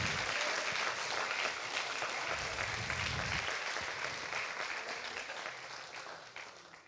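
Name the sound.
applause from the congregation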